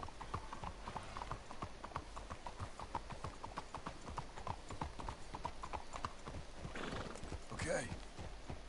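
Horses in the Red Dead Redemption 2 video game trot with rapid, continuous clip-clopping hoofbeats under a background hum, and a loud whinny breaks in near the end.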